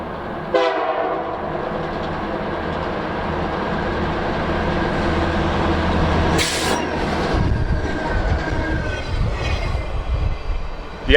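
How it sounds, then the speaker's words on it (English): A pair of Union Pacific snow-fighting locomotives with a flanger in tow pass close by on Donner Pass in winter, with a loud, sustained engine rumble, a horn blast at the start and rising rail and wheel noise as they go by. "around the corner came a pair of snow fighting jeeps with a flanger in tow"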